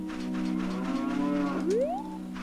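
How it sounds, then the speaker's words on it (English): A cow moos once in The Legend of Zelda: Ocarina of Time, a single drawn-out, tonal call that rises in pitch at the end, clear and close with no talking. "There's a cow."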